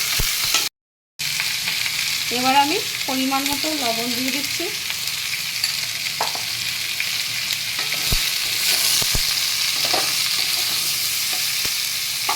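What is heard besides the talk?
frying ridge gourd and potatoes in a pan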